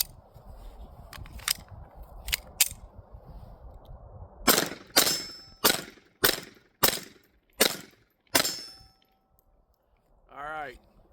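Taurus TX22 pistol firing CCI Mini Mag .22 rounds: a few fainter pops, then a string of sharp, loud shots at a steady pace, ending with a brief vocal sound.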